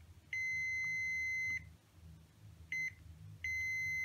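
Multimeter continuity tester beeping while probing a capacitor on a Nintendo Switch board, three steady high-pitched tones of varying length with short gaps, clear and close.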